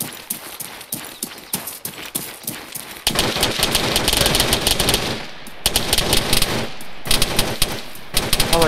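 Gunfire crackles in ARMA 3, a military shooter, with sharp single shots spaced irregularly at first, then erupting into loud, dense bursts of automatic fire with brief lulls between volleys.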